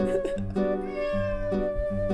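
Leon, a pet cat, gives a drawn-out, tonal meow, close and clear, with brief breaks and swells in the voice and no one talking.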